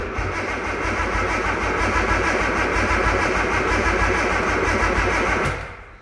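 A Nissan Skyline R33 engine cranks steadily on its starter, a loud, continuous rhythmic churning that runs for several seconds without catching and then cuts off abruptly near the end.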